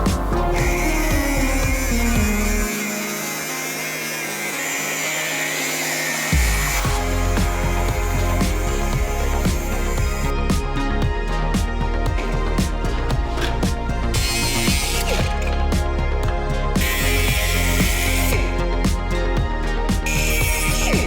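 A power tool cuts away a flange on a car body during a Volkswagen Karmann Ghia body swap, making a loud, continuous grinding whine that shifts in pitch and load, with short pauses between passes.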